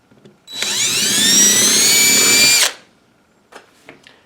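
A step drill bit bores into a rawhide rattle handle in one loud, rising whine of about two seconds, followed by a few faint clicks and handling taps.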